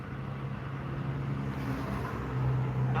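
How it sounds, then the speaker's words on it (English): Intense tornado roaring through Wakefield over a live feed, a steady low rumbling rush that swells slightly toward the end, moderately loud and continuous with no speech. "You can hear the roar on their feed right now."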